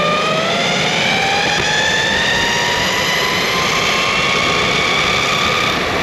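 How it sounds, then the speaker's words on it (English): A belt-drive electric skateboard, the Flex Pro, whines loudly and continuously while riding fast, a rising mechanical pitch over steady road and wind rumble, with no talk. "do you like belt whine?"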